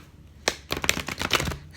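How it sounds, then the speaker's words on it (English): A deck of tarot cards is given a quick riffle shuffle nearby, a brief rapid flurry of papery snaps and flutters in a quiet room. "Let's just do a little pre-shuffle here."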